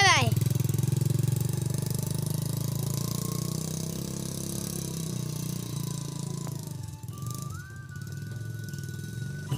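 Motorcycle riding along a village road in rural Pakistan, its engine a steady, close drone with wind rumble that holds for the whole ride and thins slightly toward the end.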